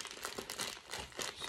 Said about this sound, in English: I will have to open this myself with my nails